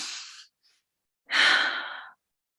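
A person breathing during a guided meditation: a soft breath out, a pause, then a longer, louder sigh-like exhale, close and alone in quiet.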